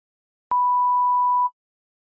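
A single steady electronic tone from an answering machine, about one second long, sounding clearly after brief silence before message playback.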